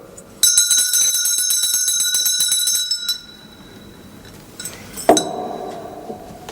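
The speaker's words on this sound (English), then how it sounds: "Patrick, the bell" A bright metallic bell rings continuously for nearly three seconds, close and loud with a shimmering ring, then stops; a clattering knock follows after a pause, in an indoor church-like setting.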